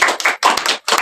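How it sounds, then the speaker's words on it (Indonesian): A classroom audience claps for a presentation group, giving about three loud, close bursts of clapping separated by short gaps. "Tepuk tangan untuk kelompoknya Mbak Lujeng."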